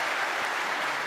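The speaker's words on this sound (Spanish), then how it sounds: "Un aplauso, entonces, un aplauso" Crowd at a Spanish-speaking gathering breaking into brief, dense applause, a steady loud rush of many hands clapping with no talk.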